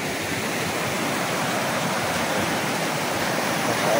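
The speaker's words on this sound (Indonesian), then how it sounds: "Sungainya bagus sekali, bersih ya, airnya jernih." A clean, clear river flows past rural land beside a road, giving a steady, dense rush of water that fills the whole clip without a break and with no one talking.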